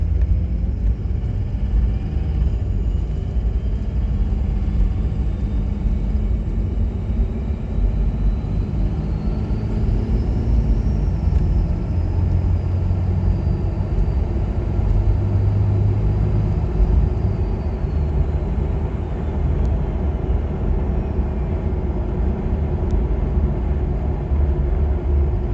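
A diesel truck fitted with a DPS Turbonator and S475 turbo in a compound setup revs, a loud continuous low rumble with rising turbo whistle building and fading midway.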